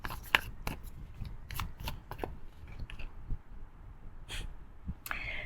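Oracle cards are shuffled and drawn, quiet rapid riffling and flicking bursts, close and soft, with light breathing in the background and no speech.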